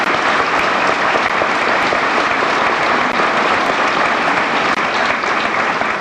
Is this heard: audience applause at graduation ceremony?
yes